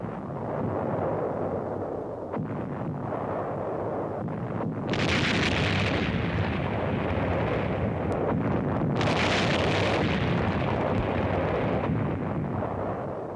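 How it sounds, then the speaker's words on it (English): Japanese heavy mortar and 3-inch gun shells burst on the grounds and buildings of a Manila university under wartime artillery attack, a constant rumbling roar broken by two louder, sustained blasts. "Shells from Jap heavy mortars and 3-inch guns blast the grounds and buildings of the university"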